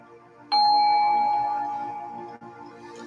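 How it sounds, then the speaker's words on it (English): A meditation bell is struck once, giving a clear, bright ring that sounds suddenly and then fades slowly across the quiet, and a faint knock follows near the end. "I'm going to ring the bell"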